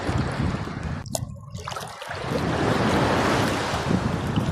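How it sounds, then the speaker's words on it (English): Sea waves out at sea near an island off Khorfakkan, a broad wash of surf mixed with wind buffeting the microphone, dipping briefly and then swelling into a steady roar, with no talk. "Do you hear this sound? Sound of nature. The sea wave."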